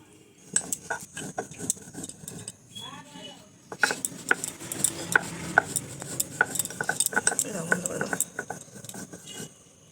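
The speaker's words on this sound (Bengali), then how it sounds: "এখন আমি জিরে বেটে নেব জিরে আর কাঁচা লঙ্কা এতে বেটে নেব" Cumin seeds and green chillies ground by hand on a flat grinding stone in a home kitchen, a steady run of close scraping strokes and dull knocks that grows busier after a short pause.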